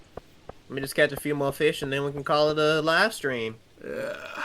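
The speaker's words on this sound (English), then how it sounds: "Did you just burp into your microphone?" A loud, drawn-out burp right at the microphone during Stardew Valley gameplay, blended with someone speaking, followed by a shorter grunting exhale.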